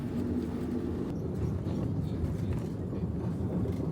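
A low, rumbling rolling noise of a Budapest tram running along its tracks beside the River Danube on the Pest side, steady and fairly close, with faint clatter above the drone.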